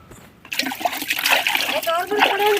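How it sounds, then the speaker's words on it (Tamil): Water splashes and sloshes while lentils (dal) are washed in a village kitchen, with short bursts of splashing mixed in with a person talking close by. "பருப்பு கழுவுறதுக்கெல்லாம் தண்ணி வேணும்."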